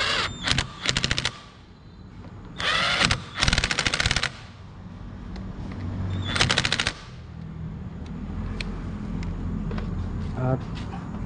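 An impact wrench or power tool tightens parts of a port-and-polished Smash 115 cylinder head in several loud, rapid rattling bursts close by, with a steady hum in the gaps between them.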